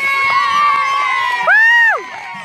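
Rodeo spectators at a Roughrider Rodeo in Richardton, North Dakota, cheering for a cowboy riding bucking ponies, with loud high whoops and shouts rising sharply near the middle over a steady crowd roar.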